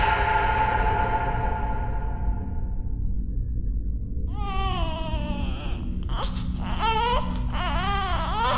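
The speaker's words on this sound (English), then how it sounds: "I start following the crying sound." A baby wails and whimpers in rising, wavering cries over a steady background rumble, after a fading ringing tone.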